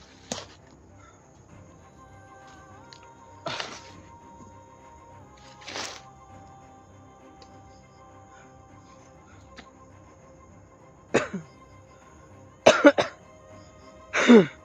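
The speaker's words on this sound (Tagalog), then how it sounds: "Inuubo ko ba?" Several separate coughs break a quiet background, two spaced early on, then a tight cluster of harsh coughs near the end.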